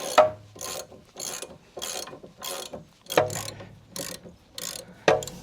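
A ratchet undoes a nut on a Jaguar XK8 drop link in a series of close, crisp clicking bursts, about ten even strokes with brief pauses, a sharper snap at a few of them.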